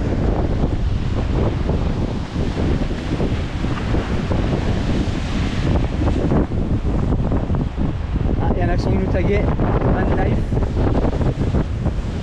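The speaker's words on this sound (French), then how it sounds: "Il y a du vent là." Heavy wind at the seaside in Águilas, Spain buffets the microphone in a constant roar, with surf rumbling beneath and people talking briefly through the gusts.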